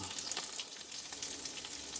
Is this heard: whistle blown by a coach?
no